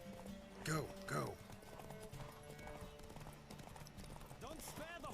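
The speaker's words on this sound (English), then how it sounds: "Don't spare the horse!" Galloping horse in The Witcher 3, hoofbeats running steadily beneath game music and ambience, interrupted by a few louder vocal bursts from someone speaking.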